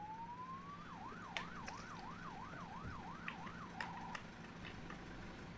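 A wailing police siren rises and falls in steady cycles, then shifts briefly to a fast yelp before cutting off, heard over low road rumble.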